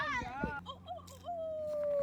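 A coyote close by gives a rising, wavering whine, then after a short pause holds a long, steady, slowly falling howl note. People are speaking nearby.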